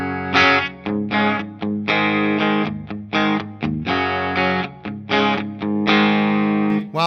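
An electric guitar through a Boss Katana amp plays a rhythmic run of short notes and chords with a fairly clean, slightly crunchy amplified tone.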